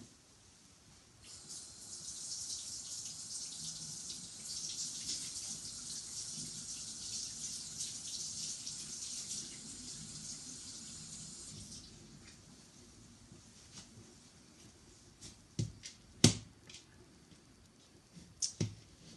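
Hot tap water runs steadily over an Ultra Pro cocotte terrine holding foie gras for about ten seconds, then stops, followed by a few sharp clicks and knocks of handling.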